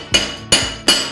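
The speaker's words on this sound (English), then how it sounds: "You can do this with a chipping hammer" A chipping hammer strikes slag off a fresh arc weld three times, each a sharp metallic knock with a bright ringing top, evenly spaced about every 0.4 seconds and close up, with no talking.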